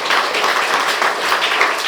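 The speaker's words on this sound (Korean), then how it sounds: "박수하고 감사하겠습니다" A church congregation applauding newly appointed deacons at an anniversary and new sanctuary dedication service, a short burst of steady, dense clapping throughout.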